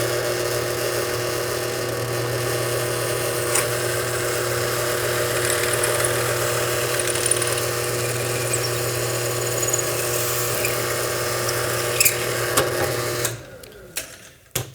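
A drill bores holes through clamped polycarbonate sheet with a steady, close motor whine that runs without a break for about thirteen seconds, then cuts off, followed by a few scattered handling clicks.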